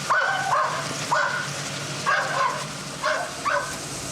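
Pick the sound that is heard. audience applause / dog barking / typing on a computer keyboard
dog barking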